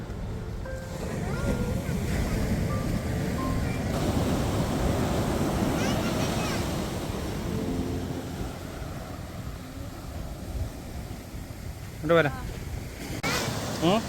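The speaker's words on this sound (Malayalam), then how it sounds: "ഞങ്ങളിങ്ങനെ കോവളം ബീച്ചിൽ നടന്നുകൊണ്ടിരിക്കുകയാണ്" Steady wind rumbles and waves wash on Kovalam Beach in Kerala, with people talking over the noise and a few brief chirpy sounds near the end.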